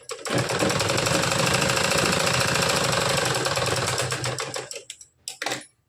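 A sewing machine stitches a blouse with a rapid, even mechanical whir for about four seconds, slows and stops, then gives one short final burst of stitching.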